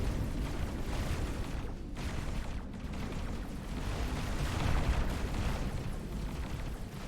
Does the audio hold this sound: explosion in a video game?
yes